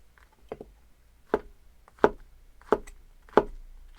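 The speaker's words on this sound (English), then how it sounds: "So I made 5 cuts in this size, kind of a medium sized shiitake." A kitchen knife cuts through medium-sized shiitake mushroom caps on a cutting board, five or six crisp close thuds at an even pace, each followed by a light board knock, with no talking.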